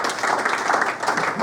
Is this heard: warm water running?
no